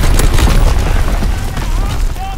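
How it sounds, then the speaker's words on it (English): Loud, heavy booms of enemy mortar fire exploding in a war video game, a dense rumbling barrage up close with overlapping impacts and battlefield noise, and an in-game voice speaking over it. "Enemy mortar fire incoming."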